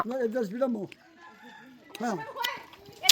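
A rooster crows loudly and close by, two drawn-out calls separated by a short gap, with clucking and voices at a party around it.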